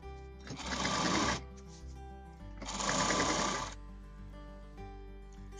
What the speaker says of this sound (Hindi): और अब इस तरफ भी इसकी स्टिचिंग करेंगे।